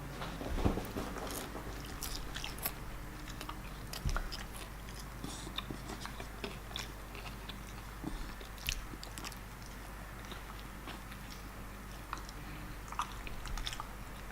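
Close, steady biting and chewing of a McDonald's Filet-O-Fish with cheese and tartare sauce, wet crunchy mouth sounds repeating throughout with no talking.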